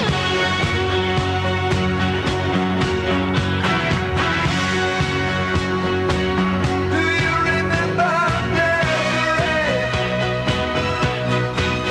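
A song plays over KFI 640 AM radio as full band music with vocals, dense and steady, loud throughout with no announcer talking over it.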